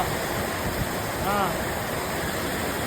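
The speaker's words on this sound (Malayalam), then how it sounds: "അതാ നല്ല മഴ പെയ്യുന്നുണ്ട്." Heavy rain in Palakkad falls in a dense, unbroken rush, loud and close, with a faint voice rising briefly in the middle.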